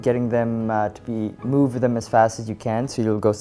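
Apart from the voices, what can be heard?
No distinct noise like a dog, phone or traffic.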